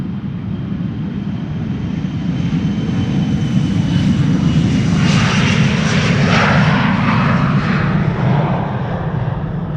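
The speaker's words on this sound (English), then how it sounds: "Tom, this is the runway for departures." An airplane departs from the runway at Amsterdam Schiphol Airport, its engines a loud sustained roar that swells and sweeps past close by, with no talking.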